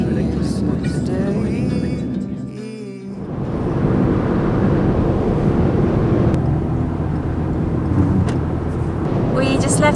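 Car driving on a road in rain south of Barcelona, a steady broadband rush of tyres on wet tarmac and engine drone, heard from inside the vehicle at moderate loudness.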